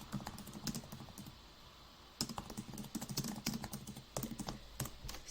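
Fast, steady typing on a computer keyboard during data entry for a transport records project, with close, crisp key clicks in quick bursts and a short pause midway, no voices present.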